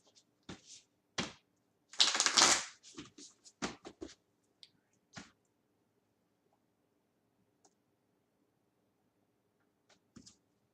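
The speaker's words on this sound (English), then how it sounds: "One more shuffle." Crisp papery riffling and tapping of tarot cards being shuffled, a dense burst followed by scattered soft clicks and near silence.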